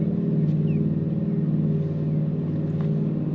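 A TVA boat's motor passes on a river during catfish fishing, a loud, steady low droning hum with a vibrating engine tone that holds nearly constant throughout.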